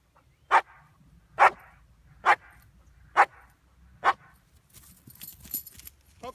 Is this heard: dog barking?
yes